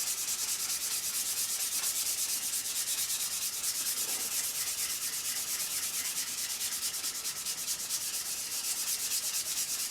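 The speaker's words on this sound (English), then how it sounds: "you can tell how the sandpaper sounds on it. It's sliding across it" Sandpaper rubbing rapidly back and forth across a hardened 24-layer knife blade, a steady, close, hissing rasp with fast even strokes that continues throughout with no talking.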